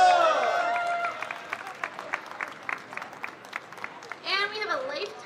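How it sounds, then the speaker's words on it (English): Applause from an audience at a Yelp awards ceremony, a steady patter of many hands running for several seconds beneath and between voices talking over it. "Let's give Maria B a big round of applause."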